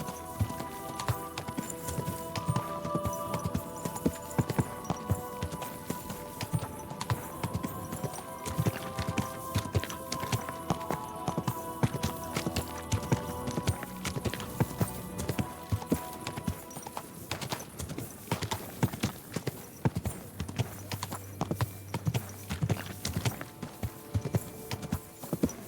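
Horse hooves clip-clopping in the video game Kingdom Come: Deliverance 2, a steady rhythmic walking beat that continues throughout, set against a layered game soundtrack and ambient music.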